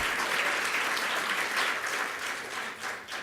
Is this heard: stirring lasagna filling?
no